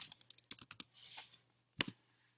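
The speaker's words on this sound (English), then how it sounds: "student will type in their name" Keys clatter on a computer keyboard as a name is typed, a quick burst of close clicks followed by a pause and a couple of louder final taps in a quiet room.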